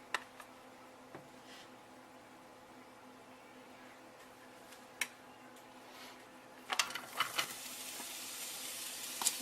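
Cooking oil heating in a pan before beef and onions go in for steak subs, a soft steady sizzle close up that grows louder and crackles with sharp pops near the end.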